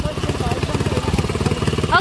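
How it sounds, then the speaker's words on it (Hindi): A motorbike ridden on Kashid Beach: close, pulsing engine putter with a rapid rhythmic chug, with people talking over it and a brief higher whine at the end. "अभी मम्मी ये बाइक चला रहे हैं"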